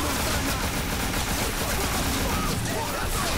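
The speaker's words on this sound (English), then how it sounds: "There goes his assault rifle, AKA his little buddy." Dense, continuous automatic assault rifle fire from Tony Montana's gun in Scarface: The World Is Yours, a loud, unbroken fusillade of rapid shots lasting throughout with no pauses.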